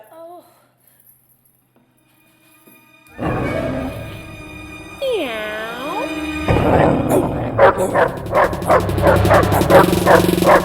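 A dog barks and yips repeatedly in a run of sharp, loud bursts, with whimpering, following a quiet opening. People talk around the barking.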